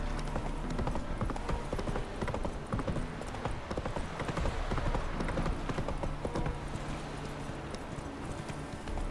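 Rapid hoofbeats of a galloping horse in The Witcher 3: Wild Hunt thud steadily throughout, close and fairly loud, with a brief whinny and faint background sounds.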